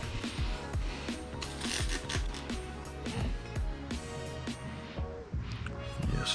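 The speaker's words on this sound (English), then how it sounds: "second cloth that's totally dry and then buff it till I don't see any of it left on there" A dry cloth buffs ceramic coating off the paint of a 2019 Audi RS3, making a close, continuous rhythmic rubbing and squeaking with repeated strokes.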